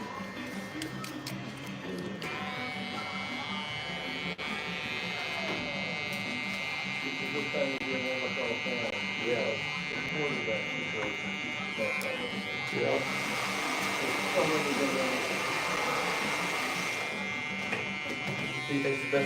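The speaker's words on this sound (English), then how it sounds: "we got a clipper with a taper blade around here somewhere" An electric hair clipper fitted with a taper blade, a Rogue, cutting hair during a haircut: a steady close buzzing hum that runs throughout, shifting slightly in tone as it moves, with people talking over it.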